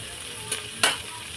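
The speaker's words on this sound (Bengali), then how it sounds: "একটু ঢাকা দিয়ে ভেজে নেবো ভালো করে" Cauliflower frying in a covered pan hisses steadily and quietly, with two brief louder sputters that flare and fade away.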